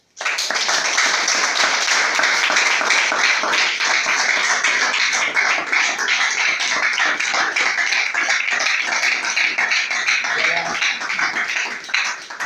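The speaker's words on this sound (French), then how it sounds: "nous voulons l'honorer et lui dire merci avec vos applaudissements" An audience at a ceremony applauds to honour a laureate, a sustained, dense patter of many clapping hands that stays loud and steady for about twelve seconds before stopping abruptly.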